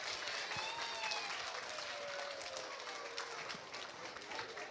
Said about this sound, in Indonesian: Give year 3 and year 4 a big round of applause for the great dance.